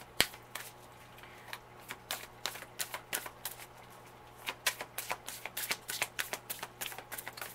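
Tarot cards are shuffled close up in quiet, a run of crisp riffling flicks and taps in an irregular rhythm with short gaps between bursts.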